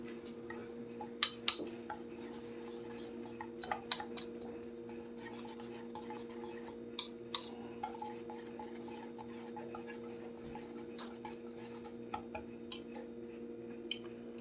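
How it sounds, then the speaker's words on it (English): Chopped shallots are mixed in a bowl, giving soft, quiet stirring with scattered light clinks and taps of a utensil against the sides, and a low steady hum underneath. "I'll mix this up real quick first, just to make sure"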